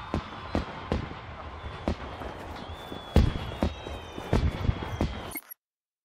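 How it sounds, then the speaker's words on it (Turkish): Fireworks going off after a region is captured in the game Just Cause 3, with sharp bangs arriving at irregular intervals over a busy background that cuts off abruptly at the end. "Havai fişekler eşliğinde bu bölgeyi almış oluyoruz."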